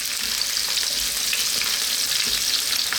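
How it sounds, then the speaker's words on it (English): Fresh curry leaves sizzling in a hot pan for a potato mushroom curry, a steady, loud, crackling hiss that holds throughout with no voices. "We're now going to add in our curry leaves."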